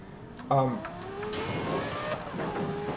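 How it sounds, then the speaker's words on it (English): A V10 Lamborghini Performante Spyder in the video game Need for Speed Most Wanted (2012), its engine droning steadily with a rising rev partway through, under a muffled voice. "The V10 sounds so good."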